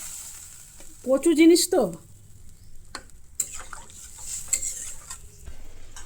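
Taro is sautéed and stirred in a pan with a soft, steady sizzle and intermittent scrapes and clinks of a utensil against the metal, while someone speaks briefly early on.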